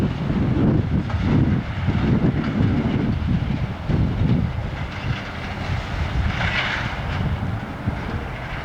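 An eastbound CN local freight train led by two locomotives passes through Battle Creek, Michigan, with a steady low rumble and rolling wheel noise that fades slightly as it goes by, heard from nearby without talk.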